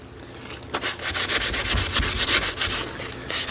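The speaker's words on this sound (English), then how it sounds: "I just happen to have this sandpaper in front of me" Sandpaper rubs back and forth over a small float seat from a GE Monitor Top refrigerator, a close, steady rasping scrape in quick repeated strokes with no talking.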